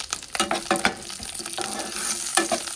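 Cumin seeds and dried and green chillies sizzle and crackle in hot ghee while a spoon scrapes and stirs the pan in short, uneven strokes, close up.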